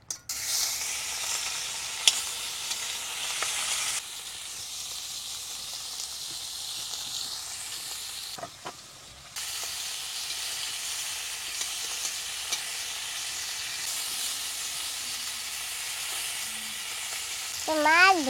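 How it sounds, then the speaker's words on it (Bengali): Fish fries in oil in a wok, a continuous hissing sizzle with occasional stirring knocks, briefly breaking off midway before the frying noise carries on. "তো মাছ ভেজে তো নিয়েছি"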